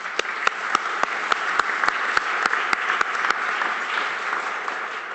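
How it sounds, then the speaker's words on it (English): Audience applause at a Bay Street business panel on reconciliation, a steady crowd clapping punctuated by one loud, regular nearby clapper whose sharp claps stand out in an even rhythm before fading into the general sound. "A round of applause for Ron Jamieson."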